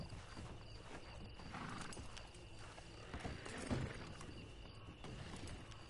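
Horse hooves clip-clopping at a walk in the Red Dead Redemption 2 online game, quiet and steady with a soft snort or whinny partway through, alone without talk.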